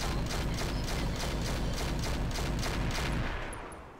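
Mech weapons firing in the Roguetech BattleTech game, a loud rapid stream of evenly spaced shots rattling for several seconds before fading out.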